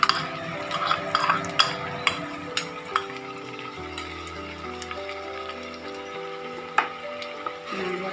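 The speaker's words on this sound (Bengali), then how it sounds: "পেঁয়াজ বাটা দিলাম, একটু নেড়ে নিই পেঁয়াজটা" Onion paste fries in a pan while a spoon stirs it for a Bengali katla fish-head muroghanto, giving a soft steady sizzle broken by scraping strokes and metallic clinks of utensil against pan.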